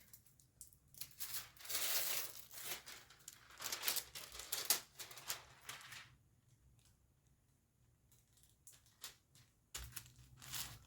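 Backing film peeled off a rhinestone transfer for an army jacket, heard as close, crackly plastic rustles and tearing crinkles in irregular bursts, loudest early on, then sparser soft handling noises.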